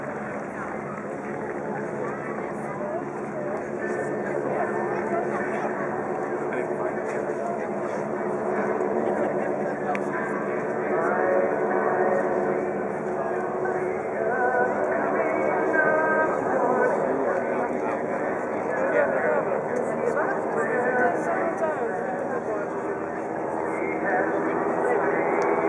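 AeroShell Aerobatic Team aircraft fly at the Oshkosh AirVenture 2011 night air show, giving a steady, continuous engine drone that holds throughout, with indistinct voices mixed in.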